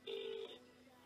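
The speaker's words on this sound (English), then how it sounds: "just got his phone number here, and dialing PewDiePie" A single short two-tone telephone dialing beep sounds quietly, followed by a soft hum of room noise.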